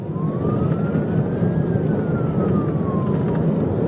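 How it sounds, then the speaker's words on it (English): A state trooper's police siren, recorded on a dashcam, wails loud and close during a high-speed chase, a single slow rising and falling sweep over heavy engine and road noise. "The trooper activated his lights and sirens"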